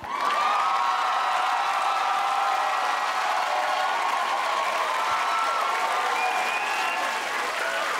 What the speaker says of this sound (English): I'd like you all to give a big round of applause to a crew I know as Sausage Party!